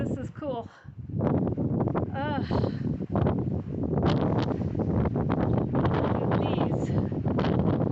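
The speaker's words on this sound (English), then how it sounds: "I think we're in like a steady 30 or 40 mile an hour wind in some spots here right now" Strong, steady desert wind buffets the microphone in rough gusts among the rocky wind caves of the Coyote Mountains Wilderness, a dense roar with a person talking over it.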